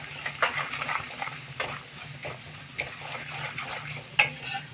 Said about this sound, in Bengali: হলুদটাকে আমি একটু নেড়ে নেব তেলের সাথে, মশলার সাথে ভালো করে মিশিয়ে নেব।